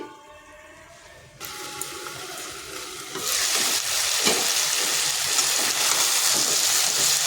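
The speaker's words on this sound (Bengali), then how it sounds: "এইভাবে আলুটাকে বেশ কিছুক্ষণ নেড়ে চেড়ে ভেজে নেব। এইভাবে ঢাকা দিয়ে দিয়ে ভেজে নিচ্ছি।" Potatoes for aloo posto are stirred and fried in a covered pan. A quiet start gives way to a sizzle that grows much louder and then holds as a dense, steady frying hiss with stirring scrapes.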